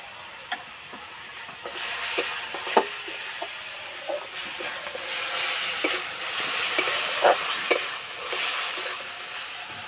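Spice masala for pabda fish curry frying in a pan, a continuous bright sizzle and hiss with repeated stirring scrapes and taps throughout, close and moderately loud, no speech.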